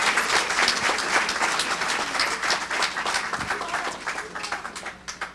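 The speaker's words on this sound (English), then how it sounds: "How about a big round of applause for everybody?" A crowd at a chamber of commerce community gathering in New Smyrna Beach gives a big round of applause, dense and steady at first, then thinning and fading over the last second.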